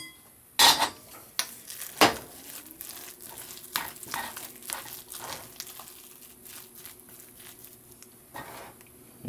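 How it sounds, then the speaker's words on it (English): MRE spoon scraping and stirring freeze-dried stuffing in a container, with irregular clinks and scrapes, a few sharp loud knocks early on, then softer intermittent rustling scrapes. "It does say to fluff with a fork, but I've been using an MRE spoon all along"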